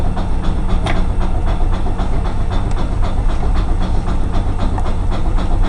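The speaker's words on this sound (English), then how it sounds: "the air compressor to recharge the braking system" A locomotive air compressor under the floor recharges the braking system with a steady, loud mechanical roar and hiss, carrying a faint regular pulsing throughout.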